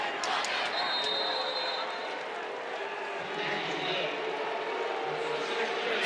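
Football stadium crowd at an SMU versus Louisville college game voicing displeasure at an officials' decision under replay review, a loud sustained roar filling the whole stretch while a commentator talks over it.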